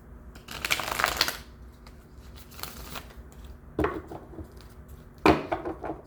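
Close riffling and shuffling of a tarot card deck in several quick bursts, separated by short pauses and soft handling noises.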